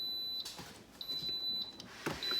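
A few faint, high electronic beeps from an Instant Pot electric pressure cooker sound over a quiet background hum, spaced apart with short gaps between them.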